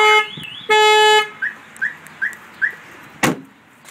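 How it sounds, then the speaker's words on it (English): A K9 200 car alarm sounds close and loud: a rising siren tone, then a long steady honk from the car horn, followed by four short chirping bursts and a final sharp hit. "It's going to honk the vehicle too to let the owner of the car know that it's something serious"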